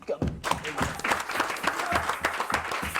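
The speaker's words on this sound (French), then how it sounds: "il va falloir applaudir très fort" A studio audience on a French-language television programme claps, the applause uneven and moderately loud, with some louder individual claps and a low thump or two in the mix.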